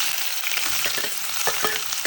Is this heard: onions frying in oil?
yes